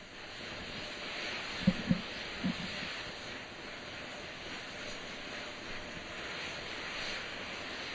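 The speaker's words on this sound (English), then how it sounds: "Those are auxiliary power units, high-speed turbines which provide pressure to hydraulic pumps that steer the RS-25 engines" Auxiliary power unit turbines on the Artemis II core stage at Kennedy Space Center produce a steady, distant broadband roar with a high whine, with a few faint low thumps early on.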